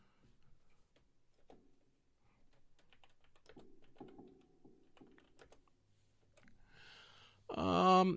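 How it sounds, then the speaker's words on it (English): Quiet, scattered clicks of keys being typed on a computer keyboard, sparse and irregular, ending in a short louder tonal burst. "I actually have a keyboard you can hear."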